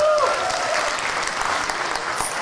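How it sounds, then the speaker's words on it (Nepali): A concert audience in Hong Kong applauds warmly to welcome a singer, a dense, steady wash of clapping up close, with no voices over it. "उहाँलाई जोरदार तालीको साथ स्वागत गरौँ।"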